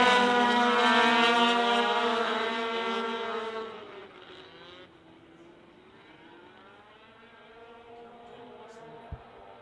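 Pro Formula 500 race cars roar loudly at the start of a race, engines revving in dense overlapping harmonics that sweep upward, then fade as the pack pulls away, with a commentator talking over it.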